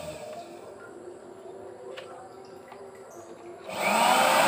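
A homemade vacuum cleaner built from scrap parts switches on near the end, a loud rushing motor roar that bursts in abruptly after a quieter stretch of faint background hum and small clicks.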